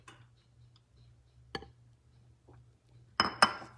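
An egg is cracked against a bowl edge and dropped into pound cake batter: a sharp tap, then a pair of quick clinking knocks near the end, close and clear over a quiet low hum.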